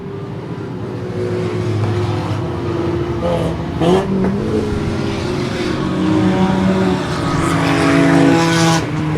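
Race cars roar around an oval track in a 47-car enduro, a dense continuous engine drone with cars passing close and fading, heard from trackside at moderate loudness.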